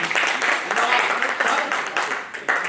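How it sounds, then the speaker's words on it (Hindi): Loud, dense applause from a poetry-gathering audience at a kavi sammelan in Sitapur, a steady wash of many hands clapping that continues unbroken throughout, with crowd noise mixed in. "एक बार जोरदार तालियों से आदेशित करिए"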